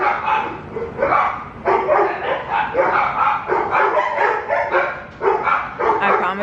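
Several dogs bark continuously in overlapping bursts, loud and close, with occasional yips mixed in.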